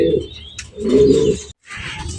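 Pedigree racing pigeons coo nearby in two soft, throaty bursts separated by a short pause, with faint chirping above, close and clear with no talk.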